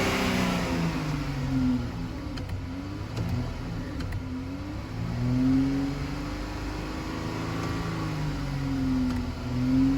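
A Dodge Challenger engine, treated with Seafoam and with its throttle pushed by the power seat, revs continuously near the microphone, its pitch rising and falling in slow, smooth waves.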